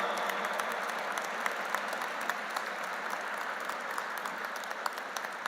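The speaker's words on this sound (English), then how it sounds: "Let's rise in our seats and give a standing ovation to Honorable D." A standing ovation at an interfaith harmony conference, a large crowd clapping in a continuous, even roar with sharper individual claps popping out, sustained without pause.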